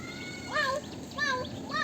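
A cat meows three times outdoors, each call a clear rising-falling cry spaced about half a second apart, over soft background noise.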